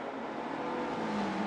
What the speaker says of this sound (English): hearing the engine drone out in the tunnel